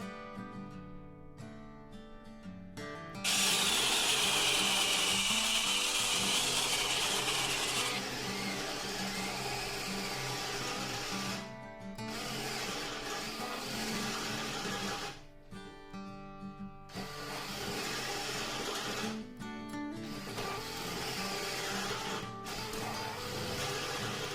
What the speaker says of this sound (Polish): Czasy wiercenia otworu o średnicy 8 mm wiertłem krętym są na tyle krótkie